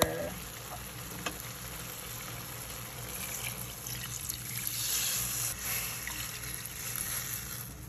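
Chicken tinola broth bubbling at a steady boil in a pot, a continuous close sizzling, bubbling hiss with faint trickles and clinks, no talking.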